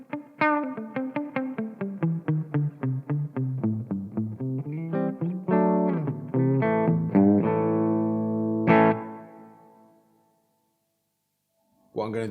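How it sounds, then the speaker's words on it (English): A Marshall MG50 guitar amplifier with its studio reverb set high rings out under a string of picked guitar notes and chords, each tail washing on and decaying smoothly into silence. "So first up, you've got a studio reverb."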